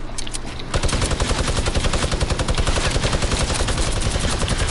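Rapid automatic gunfire from a video game battle rattles continuously and loudly after a brief softer lead-in, dense bursts with no pauses and no talking.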